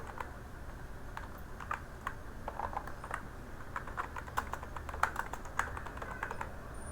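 Rapid keystrokes on a computer keyboard while C++ code is entered, an irregular run of close, light clicks with brief pauses, steady throughout and no voices.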